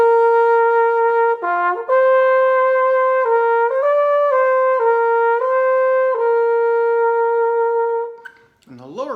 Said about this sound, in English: And the upper range sounds more like this.